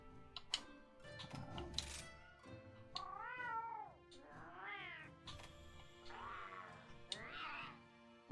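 Cartoonish cat meows from the Monster Hunter Rise: Sunbreak video game, a handful of distinct rising-and-falling mews in close succession over soft game music, clear and up front.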